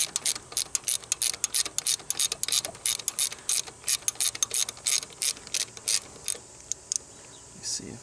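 A ratchet wrench on an extension clicks quickly in repeated bursts as it turns a 10mm bolt on a bracket stud during a Grand Am engine teardown. The sharp, close ratcheting runs steadily with short pauses.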